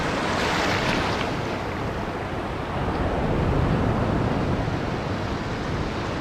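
Ocean surf washes steadily onto a beach at night, a continuous broad rush of breaking waves with some wind buffeting the microphone, loud and close with no pauses.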